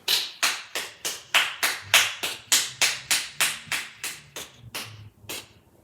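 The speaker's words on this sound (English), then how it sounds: "First of all, let's give LeBron a hand clap." Someone claps their hands about sixteen times at a steady rhythm that gradually slows, each clap sharp and close, with no talking.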